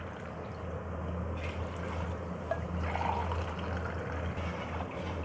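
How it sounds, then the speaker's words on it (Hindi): Water poured steadily into a cooking pot to boil for aloo chawal, a continuous close splashing trickle with no talk over it. "अब डालेंगे जी पानी ऐड करेंगे।"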